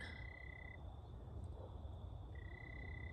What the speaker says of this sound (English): Listen to that, I hear a cricket.